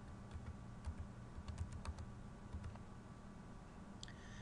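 Quiet, scattered key clicks of someone typing a password on a computer keyboard in an office, a few taps in short bursts over a low steady room hum.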